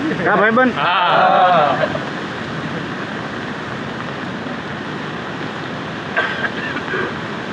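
Heavy, steady rushing water roars continuously from a river swollen by very heavy rain in Gujarat, in full flow, with a brief burst of wind or voice noise at the start.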